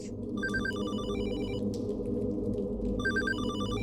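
A telephone rings in the Hollow Body video game, with one bright trilling burst of ringing, a short pause, then a second ring beginning, all over a low steady ambient hum.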